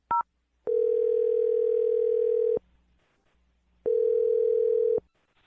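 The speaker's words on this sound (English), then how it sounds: "I'm going to dial his phone number now" A telephone line gives a short beep, then a long steady dial tone, a pause, and a second steady tone before a call connects, clear and alone.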